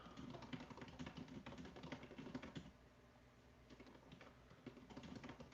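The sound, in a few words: typing on a computer keyboard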